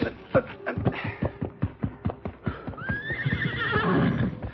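A horse neighs loudly near at hand over a steady run of hoof clip-clops, the whinny rising toward the end while the hooves keep pounding.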